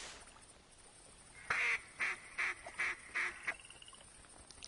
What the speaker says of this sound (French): Encore des canards, hein.